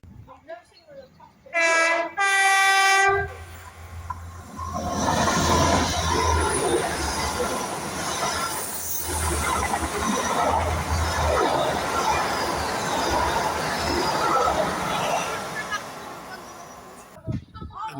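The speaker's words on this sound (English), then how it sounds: "This sounds like the bog standard northern train" A standard Northern train passes through a small station with a goods shed, opening with two loud horn blasts and then a long, heavy rumble and clatter of wheels that fills the scene before fading away.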